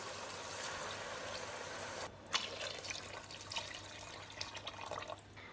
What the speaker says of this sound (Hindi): अब हम इसके अंदर 1 लीटर पानी डाल देंगे चावलों के लिए।